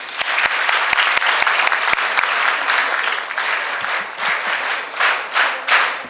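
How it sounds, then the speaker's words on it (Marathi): Audience applause at a Yoga for Kids book launch in Pune: a dense, loud round of clapping that opens with sharp individual claps and thins out gradually toward the end. "प्लीज जोरदार टाळ्या वाजवा."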